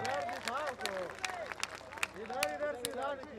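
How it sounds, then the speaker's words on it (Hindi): Scattered claps and crowd noise at an outdoor BJP stage show in Banka, Bihar, mixed with excited voices and babble, the clapping thin and uneven rather than a full ovation. "एक बार उनके लिए भी ताली बजा देंगे तो हमें बड़ा अच्छा लगेगा"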